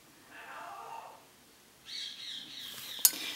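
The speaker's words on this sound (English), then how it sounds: "You can hear my lady boss's birds." Pet birds chirp and call indoors in two bursts, the first soft and the second brighter and busier, with a sharp click near the end.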